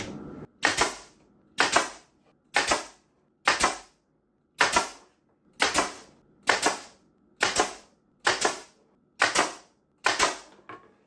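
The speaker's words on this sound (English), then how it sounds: "now I'm going to line these up and tack these in" Window trim is tacked into place with a nail gun, a string of about ten sharp, evenly spaced pops roughly a second apart, each followed by a short hiss, close and loud in a quiet room.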